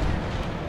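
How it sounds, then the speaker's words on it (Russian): Artillery cannons fire in the World War I video game Valiant Hearts: The Great War, a dense, loud, continuous rumbling barrage of booms with no pauses. "Это вот эти сраные пушки."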